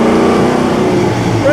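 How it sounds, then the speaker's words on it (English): A historic race car at Monaco downshifting, a loud close engine roar with rising and falling revs, heard from inside the car with talk over it. "Little downshift."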